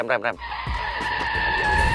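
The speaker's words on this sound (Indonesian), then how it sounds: "Dia akan ngerem mendadak." A car braking suddenly on command, tires skidding in a sustained screech after a brief burst of speech, the squeal holding steady and loud through to the end.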